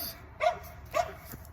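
Two sharp dog barks ring out about half a second apart over a low background rumble, a third fainter yip trailing after, with no talking in between.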